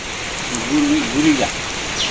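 Steady rain hisses throughout, a dense even patter, with a faint voice briefly murmuring beneath it.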